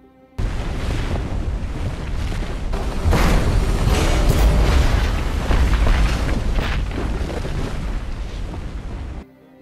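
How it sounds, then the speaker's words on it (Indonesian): A deep, rumbling explosion in a film bursts in suddenly, bringing down snow, and keeps roaring with heavy low booms and debris-like crackle for several seconds before cutting off. "Ledakan yang terjadi membuat salju berjatuhan dan kereta itu pun mengalami"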